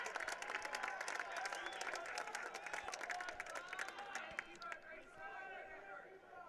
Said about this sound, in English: Hornet fans applauding the effort of Tommy Broderick, and the Eagles fans applauding the goalkeeping of Carson Bell